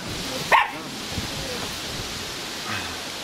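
A small dog gives a single sharp bark over steady outdoor background noise in a village, with a fainter yip later; no clear talk.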